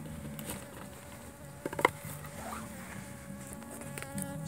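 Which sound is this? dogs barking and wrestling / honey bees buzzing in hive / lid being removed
honey bees buzzing in hive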